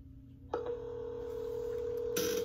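Touch-tone keypad beeps of a phone being dialed for an outbound sales cold call, one short tone followed by a long steady tone and another sharp beep near the end, clear and close with no voices.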